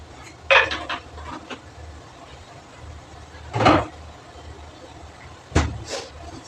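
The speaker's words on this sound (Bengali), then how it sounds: "এই দেখো কতগুলো বাসন আছে, এখন গুছিয়ে নেব" Dishes and cutlery being put away in a home kitchen, with three distinct clattering clinks of metal pots and utensils spaced a few seconds apart over quiet background hum.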